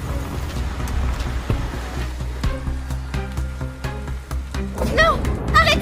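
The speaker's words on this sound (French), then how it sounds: "Il pleut des cordes." Heavy rain pours steadily in the background, a dense constant wash with some louder drops and splashes, while a few other sounds and a brief voice come through near the end.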